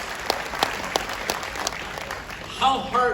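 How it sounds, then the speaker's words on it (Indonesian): Audience applauding at a product presentation, brisk clapping with a few sharp claps standing out, followed by a voice speaking briefly near the end. "Nah, tepuk tangan dong ya."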